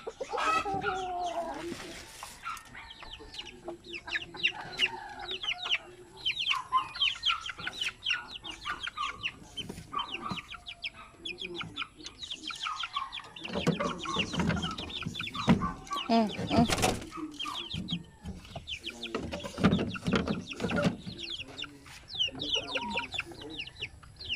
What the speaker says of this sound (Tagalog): Pagkaon ko guys, akong alaga nga manok.